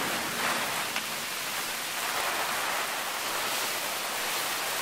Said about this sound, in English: look down there, you just see the rain coming